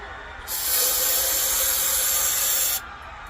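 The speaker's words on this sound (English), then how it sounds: "Sprayed some carburetor cleaner down in it, put it in this cup." Carburetor cleaner sprays into the pump tube of a 1930s KampKook camp stove, a loud steady aerosol hiss lasting just over two seconds, close up and alone, with quiet room tone before and after.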